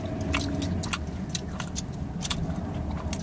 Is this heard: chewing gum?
yes